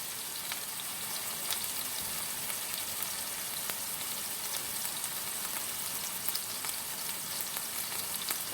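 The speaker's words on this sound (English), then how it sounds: "I just want to sear it and get a little brown on both sides." Steak searing in a hot pan on high heat for fajita nachos, a steady dense sizzle and crackle with scattered spits and pops, continuous and fairly close, no talking.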